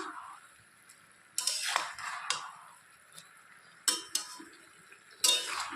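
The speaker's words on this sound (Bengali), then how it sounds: "এখন আবার একটু নেড়ে চেড়ে দিচ্ছি" A spatula stirs vegetable chorchori with small tengra fish in a pan over medium-low gas, giving a few separate scraping, clinking bursts with quiet gaps between them. No one speaks.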